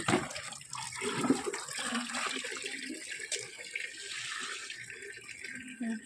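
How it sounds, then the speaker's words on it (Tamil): Water is poured onto potted plants, tulsi among them: a steady splashing, trickling stream runs for several seconds, close by, with faint rustling and no talking. "அதான் இப்போ தண்ணி ஊற்றலான்னு வந்தேன்"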